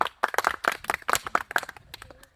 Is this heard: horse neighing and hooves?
no